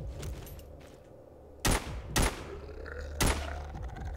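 A weapon in the zombie shooter Walking Zombie 2 fires three sharp, loud shots at uneven intervals over a low background hum.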